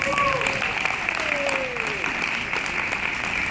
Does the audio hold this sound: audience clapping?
yes